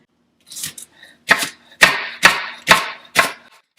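A knife slicing through Chinese sausage on a cutting board, six crisp, evenly spaced chops that grow steadier, close and clear in an otherwise quiet kitchen.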